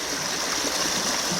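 Constant rushing hiss of river water flowing in the rain, an even wash of sound with no voices, moderately quiet and unbroken.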